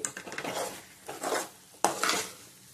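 Tomato chutney with fresh coriander stirred in a pan gives a few rough scraping sweeps of a spoon against metal over a soft, low sizzle, with a sharp clack near the end.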